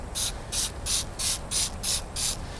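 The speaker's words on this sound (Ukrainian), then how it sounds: "Коротше, я пшикаю" Juice Lubes Scrub and Buff bike cleaner sprayed from a trigger bottle, seven quick evenly spaced hissing spritzes in a steady rhythm, close and crisp over a quiet background.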